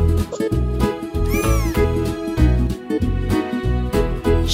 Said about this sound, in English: Cats like to chase mice.